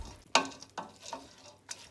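Black eye and red peas being stirred together with vegetables in a pot for a Guyanese vegetable cook-up: a few separate scraping, rustling strokes with short pauses between, close and fairly quiet, with no talking.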